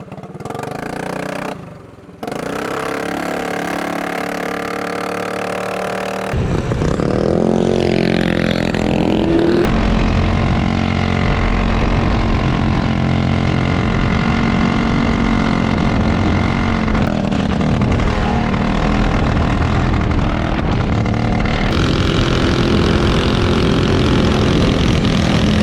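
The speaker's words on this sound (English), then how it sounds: "Alright, so Vasily, how was the first ride on the Hayabusa?" A modified Suzuki Hayabusa motorcycle is ridden, its engine droning steadily and loudly with harmonic tones that rise and fall through gear changes, preceded by a brief idle.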